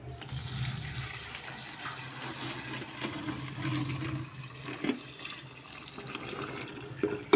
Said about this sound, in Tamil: அதில் தண்ணி ஊற்றுங்க.